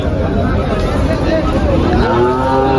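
Cattle and young heifer calves low and moo at a busy Bangladeshi cattle market, a drawn-out call rising near the end over constant crowd babble and people talking nearby.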